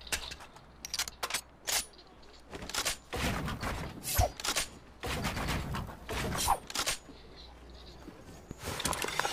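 Rapid bursts of gunfire from a Fortnite match, set in a clan tournament, crack in irregular volleys of sharp shots with short gaps between them, some louder and closer than others, over a low background hum.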